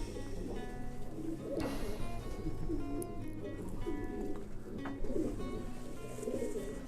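Racing pigeons in a loft cooing, soft low repeated coos overlapping continuously at close range, with a faint rustle and a brief click or two.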